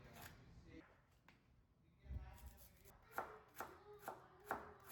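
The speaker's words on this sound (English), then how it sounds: "For the pickle, I'll cut the radish into small cubes." Knife chopping radish into small cubes on a cutting board, a series of crisp, close knocks that settle into a steady rhythm in the second half, with a low thump and faint background murmur early on.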